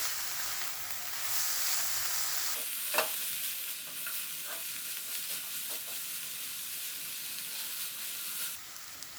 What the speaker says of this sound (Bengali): এক থেকে 2 মিনিট আবারও নাড়াচাড়া করব।